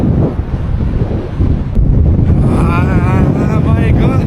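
Strong wind roars and buffets against a cyclist's microphone on National Road 314 in Xinjiang, a loud continuous rumble, with a voice briefly rising over it toward the end.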